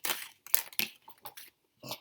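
A deck of tarot cards is shuffled by hand in short, dry riffling bursts separated by brief pauses, close and fairly quiet, with no talk.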